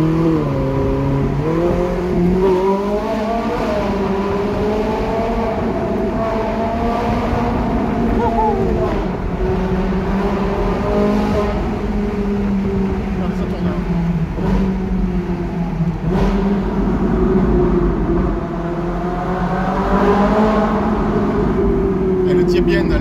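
Ferrari 458 Italia naturally aspirated V8 fitted with a Capristo exhaust, droning loudly and steadily through gear changes as it accelerates, rising and settling in pitch, with people talking over it throughout.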